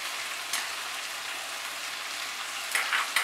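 A spice paste with ginger fries and is mixed in a pan for a Bengali potato and papaya dalna, making a soft, even hiss with a few brief louder scrapes of stirring.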